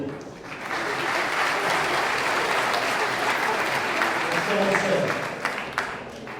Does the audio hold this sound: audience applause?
yes